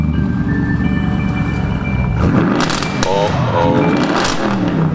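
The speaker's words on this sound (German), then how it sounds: "Ein Verbrennungsmotor. Wir haben hier also ein Hybridfahrzeug, einen Hyundai Ioniq Hybrid." The combustion engine of a Hyundai Ioniq Hybrid car-sharing car starts up with a loud burst and settles into a close, rough running note, while a person briefly exclaims over it.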